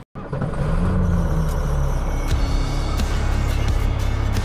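A 1951 Diamond T diesel truck engine starts up and holds a steady, loud, close idle with a deep rumbling throb and a faint rise as it is revved slightly.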